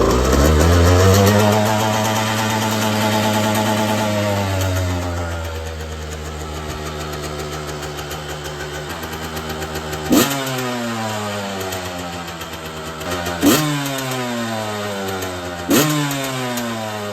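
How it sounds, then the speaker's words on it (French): A Yamaha YZ dirt bike engine starts and idles with a rough mid-pitched drone, then gives three sharp, loud blips of the throttle spaced a few seconds apart. "La petite YZ, est-ce que je vous la démarre?"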